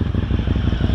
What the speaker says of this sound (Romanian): Trebuie să aud motorul.